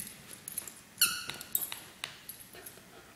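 A dog's squeaky toy gives several sharp, short squeaks as it is pulled apart, with faint rustling and chewing sounds between them.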